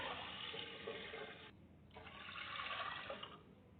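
Water pours steadily into a cooking pot of rice for masar chawal. It is a continuous splashing rush with a short dip in the middle, then the pour carries on. No one speaks.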